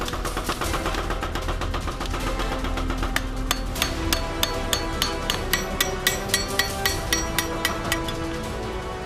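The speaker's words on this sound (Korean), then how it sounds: "각도를 잡는 동시에 호미의 날이 강해지게끔 망치질로 견고하게 두드리는 것이 포인트" A hot Korean homi hoe blade is hammered on an anvil to set its angle, with loud, ringing metallic strikes falling in a fast, steady rhythm over a constant workshop drone.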